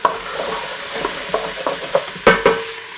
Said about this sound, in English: You just gotta stir that up for a few minutes while it's all together.